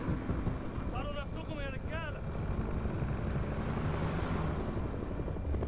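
A steady, roaring aircraft drone fills the scene in the video game House of Ashes, a broad continuous rumble with wind-like noise, while a brief voice rises over it early on.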